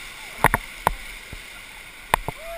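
Paddles from a raft dip and stroke through the water in a few sharp, close splashes, with gaps between strokes and a quiet water background.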